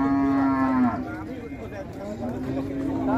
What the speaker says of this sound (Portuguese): Chegou com as vacas.